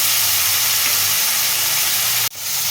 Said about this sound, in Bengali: পেঁয়াজ আদা রসুন একসঙ্গে একটু ভেজে নিচ্ছি